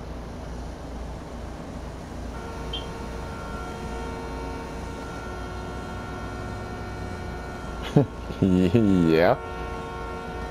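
A train horn gives one short, loud honk in the distance, rising and then cutting off, over a steady low rumble. Brief talk comes just before it.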